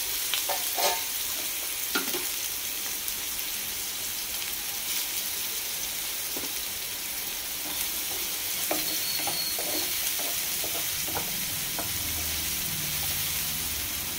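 Onions sizzle steadily in hot oil in a pan while being cooked for a capsicum curry, a continuous crackling hiss with occasional scraping and clinking as a utensil stirs them.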